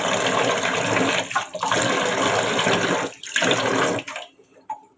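Tap water runs and splashes steadily over turmeric- and salt-rubbed fish being washed in a sink, loud and close, with a few brief breaks before the flow cuts off.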